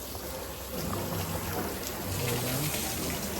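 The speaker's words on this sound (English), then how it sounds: "use a pump and suck wine off of the bottom and put it back over the top with kind of like a fire hose" Wine pumped from the bottom of a tank at a Paso Robles vineyard winery and sprayed back over the top through a fire-hose-like arrangement: a steady, close rushing splash of liquid with no talk.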